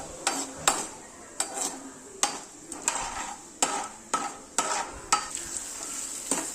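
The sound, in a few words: urad dal and mustard seeds frying in oil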